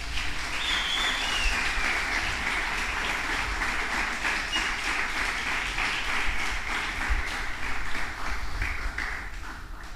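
Sustained applause from a church congregation during a sermon, steady and dense for the whole stretch with no break, the crowd's clapping filling the room.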